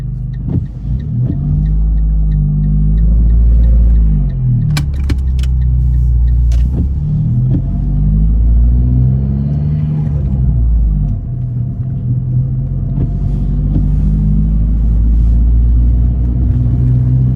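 Car pulling away during a driving test in Tottenham, a heavy low engine rumble inside the cabin rising and falling as it accelerates, with a few sharp clicks and knocks.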